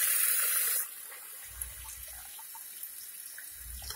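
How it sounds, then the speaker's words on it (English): Water runs from a bathroom tap into a baby doll bottle, a loud steady gush for the first second that then drops to a faint trickle with a few soft knocks. "Now to go to the bathroom and fill it up with water."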